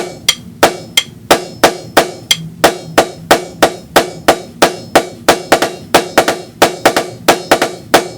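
Rapid, steady strikes on a drum or practice surface playing a paradiddle pattern in a continuous even pulse, with accented hits standing out from softer taps throughout.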